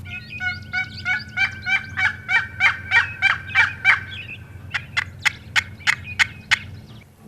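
A wild turkey gobbles in springtime woods: a long rattling series of rapid, loud pulses, a short pause, then a second quicker burst, clear and fairly near over a low steady background hum.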